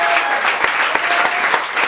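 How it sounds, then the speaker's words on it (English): Dense audience applause closing out a comedy workshop show in Dubai, a steady wash of many hands clapping close by and loud throughout, with a few sharper claps standing out. "Big round of applause for you guys."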